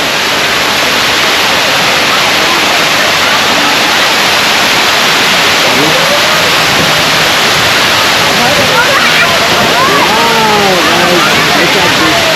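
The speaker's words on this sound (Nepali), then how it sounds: "ल हाम्रो दिलबर झरना." Steady broadband roar of a waterfall, Dilbar Jharana, fills the scene loud and close, with people talking over it throughout.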